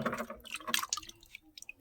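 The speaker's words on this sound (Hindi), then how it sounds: "चलिए नहाते हैं जल्दी से, पानी का ड्राम ये रहा हमारा।" Water is scooped from a water drum while bathing. Irregular close splashes and drips come in uneven bursts, then fade to sparse drops.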